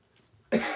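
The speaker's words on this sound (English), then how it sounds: "There seems to be a nasty cough going around again." A single loud, close cough bursts out after a quiet stretch and holds through the end, from a person re-stringing a Yonex Astrox X7DG badminton racquet.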